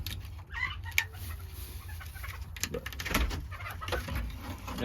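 Chickens cluck softly and intermittently nearby, scattered calls over a low rumbling background.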